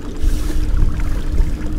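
An outboard motor runs steadily on a boat over water, a continuous low rumble with wind and water noise filling the clip, and no one talks.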